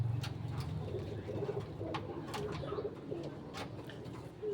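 A white racing pigeon named Whitey coos in a low, repeated murmur at close range, with steady background noise throughout.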